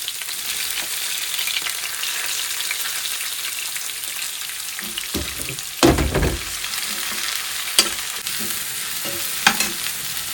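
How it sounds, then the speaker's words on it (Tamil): Onion and garlic fry in a pan with curry leaves, giving a loud, steady sizzle close up, with clattering stir strokes and scrapes bunching toward the second half. "ஸோ இப்போ இதில் வெங்காயம் பூண்டு"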